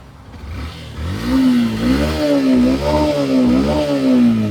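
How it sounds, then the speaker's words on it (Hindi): A Yamaha FZ S V2.0 motorcycle engine revs up from idle, its exhaust note rising and falling in several throaty blips, loud and close. "एक बार इस बाइक का आपको एग्जॉस्ट नोट सुनाता हूँ।"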